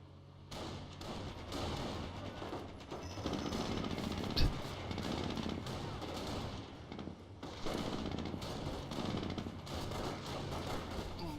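An MG42 machine gun fires in a World War II real-time strategy battle between American and Wehrmacht forces, rapid bursts rattling under other battle noise and a louder thud, moderately distant.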